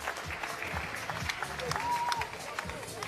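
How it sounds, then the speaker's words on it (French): Applause from the crowd at a women's professional boxing bout in a large hall, a steady wash of clapping under a commentator's continuous talk, with crowd noise mixed in. "Et même le petit qui applaudit, le petit Ali."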